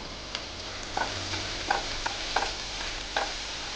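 Green chili paste sautés in a pan for thapi vadi, a soft hiss of frying under a few light ticks and taps of a spoon against the metal, faint and steady with no voices.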